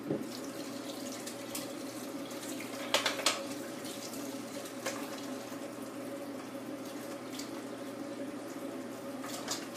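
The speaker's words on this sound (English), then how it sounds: "I'm going to fill it up with some water." Tap water pours steadily into a bowl of ice for an ice bath, a constant close rushing stream with a few faint clinks partway through.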